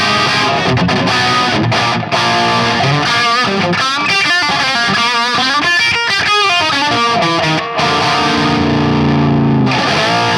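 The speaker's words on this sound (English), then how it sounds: "clean boost is off and the drive boost is on" Hughes & Kettner Tubemeister 18 tube guitar amp with the drive boost engaged, playing loud, saturated distorted electric guitar chords and riffs close to the amp, sustained and dense throughout with no talking.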